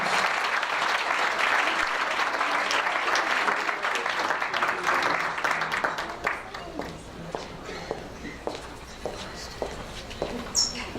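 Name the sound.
audience round of applause at luncheon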